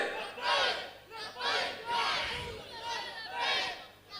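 A crowd at a Shab-e-Miraj religious gathering chants the Labbaik slogan in loud, rhythmic bursts, roughly one swell per second, with voices rising and falling together in repeated unison cries.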